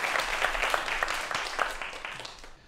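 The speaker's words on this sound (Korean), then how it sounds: "네, 다시 한번 박수 부탁드리겠습니다." Audience applause at a talk on robots and artificial intelligence, dense steady clapping from a large crowd for a couple of seconds before tapering off at the end.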